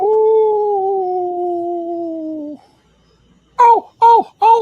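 A long, steady wolf-like howl holds for a couple of seconds and is followed by three short, loud howling yelps. The sound is close and clear, and it seems to be a human voice imitating a wolf.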